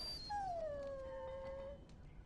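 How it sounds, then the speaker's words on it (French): A dog in the video game Dragon Age Origins gives one long, clear, falling howl with a whimpering edge, close and loud over a low ambient game background. "Ce chien de malheur me donne bien du tracas"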